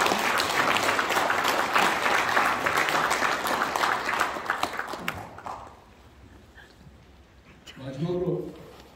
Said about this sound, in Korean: 남성들이 박수를 좀 보내드리겠습니다.